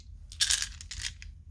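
Several number dice rattle and clatter briefly in a hand or against each other, close and fairly quiet, in a few short bursts without talking.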